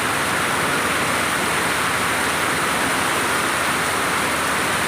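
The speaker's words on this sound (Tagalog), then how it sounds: "ang lakas ng ulan" Steady, dense hiss of heavy rain pouring continuously, loud and close, with no voices or breaks.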